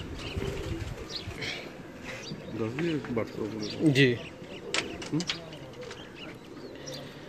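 Pigeons on a rooftop coo in soft, rolling warbles at close range, some faint wing flaps and chirps mixed in, while someone speaks briefly and other voices murmur in the background.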